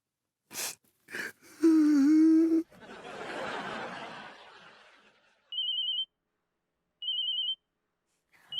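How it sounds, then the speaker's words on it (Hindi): A telephone rings twice in short electronic bursts at night, after laughter, a strained vocal tone and a breathy noise earlier on. "इतनी रात को किसका फोन आ रहा है?"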